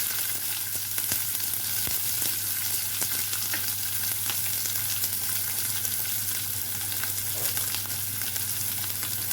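Onions sizzle and crackle steadily in hot oil, a continuous close frying hiss with occasional sharp pops and stirring.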